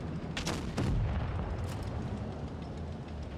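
Tank cannon shots from an AMX 13 M24 in World of Tanks Blitz, two sharp booms in quick succession over a rumbling battle background, with no talk.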